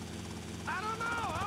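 Helicopter in Grand Theft Auto: Vice City hums steadily at low volume beneath someone talking over the game audio.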